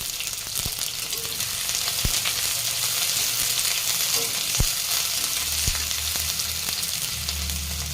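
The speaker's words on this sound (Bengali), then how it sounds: "এবারে দিয়ে দেবো কুচানো পেঁয়াজ।" Chopped onion frying in oil for a pumpkin chhokka, a steady close hiss and sizzle running without pause, with a few sharp clicks and light scrapes from a spoon breaking through it.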